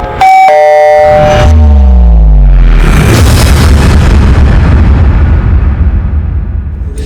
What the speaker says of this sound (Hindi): आपके घर से बड़े जोर के धमाके की आवाज आई है